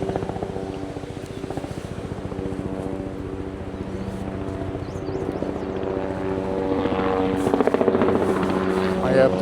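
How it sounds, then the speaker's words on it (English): A helicopter flies overhead near a trout stream on a hiking trip, its rotor producing a steady pulsing thud that builds louder toward the end, with some talk over it. "Sounds like there's a helicopter somewhere."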